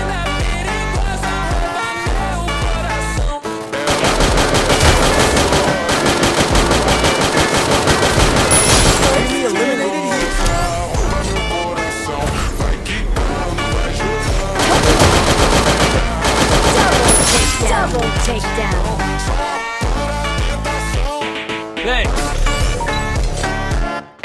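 Repeated automatic bursts from an AUG assault rifle in a battle royale video game, loud and rapid, in clustered volleys separated by brief pauses and layered over game music and effects.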